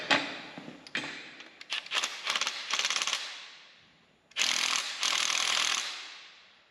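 A 5/8 bolt on the fuel pump cam of a 361 Edsel engine is tightened with a ratchet wrench, giving rapid metallic clicking bursts in several close, loud runs separated by short pauses.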